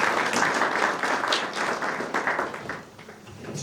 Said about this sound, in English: Another round of applause for Engineer Nakura